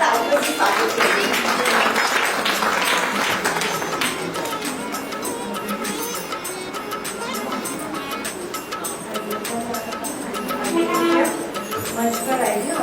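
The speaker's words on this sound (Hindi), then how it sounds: "जोरदार तालियों से स्वागत करें।" Applause from a crowd at a poetry gathering in Jalandhar, a dense patter of clapping that gradually thins and swells again over the course of the clip.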